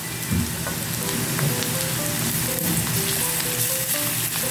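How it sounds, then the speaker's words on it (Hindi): Steady oily sizzling of onion with garlic-ginger paste frying in a pan, a continuous crackle with occasional pops and a light stir, close and fairly loud, no talking. "अब हम इसको फ्राई कर लेंगे"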